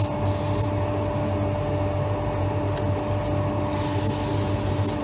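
Paper sandpaper rubs against a hand-turned wood spindle spinning on a lathe, a steady dry hiss over the lathe's constant hum, close and continuous.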